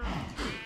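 A single short sheep bleat from Minecraft, wavering and fairly close, heard alone over a low background.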